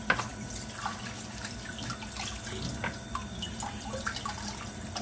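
Water from a kitchen tap runs steadily into a sink while dishes are washed, with small splashes and clinks close by and no talking.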